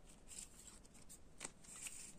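A deck of game cards is shuffled and cut for a solo wargame session, making a brief, soft riffling and flicking sound that stays quiet and close throughout.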